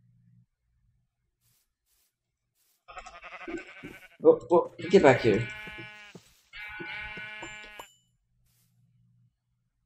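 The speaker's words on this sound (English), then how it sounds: "Looks like we found some sheep." Sheep in a Minecraft-style video game, Yogcraft, giving a few short game-sound bleats in quick succession, mixed with someone talking nearby.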